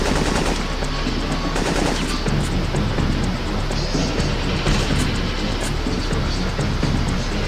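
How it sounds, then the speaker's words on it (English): Dense, continuous machine-gun fire in the Syphon Filter 3 video game, loud rapid bursts with a roaring background filling the whole stretch. "He's actually shooting!"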